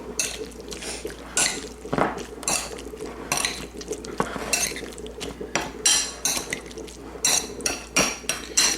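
A spoon works salt and pepper into a wet salsa in a bowl, making repeated close clinks and scrapes with soft squelching liquid sounds in an uneven stirring rhythm, with no voices.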